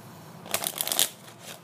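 A deck of Bee casino playing cards is riffle shuffled. It gives a quick, crisp burst of fluttering card snaps lasting about half a second, close and clear, with a soft settle at the end.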